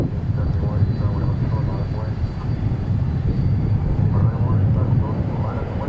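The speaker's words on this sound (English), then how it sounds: "There is our Dreamliner." Boeing 787 Dreamliner at DFW airport, a steady loud roar of jet engines that holds without break, with a faint voice or two in the background.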